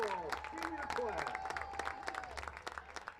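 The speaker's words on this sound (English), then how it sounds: "let's have one more round of applause for your 2024 Mount St. Joseph Football Senior Class." Crowd applause at a 2024 Mount St. Joseph college football senior day, a steady wash of clapping and cheering from the stands mixed with a public-address voice and other talk over it.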